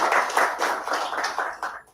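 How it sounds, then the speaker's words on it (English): Applause from a lecture audience for a speaker: a dense, close round of clapping in several rhythmic surges that fades out after about two seconds. "Let us give a round of applause to him."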